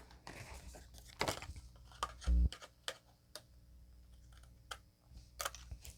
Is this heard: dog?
no